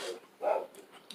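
A dog barks once, close and fairly loud, in a short indoor moment with no talk.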